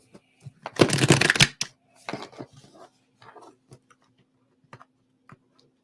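A deck of cards is shuffled for a card reading: one loud, close riffle burst, then scattered light taps and clicks as the cards are handled and squared.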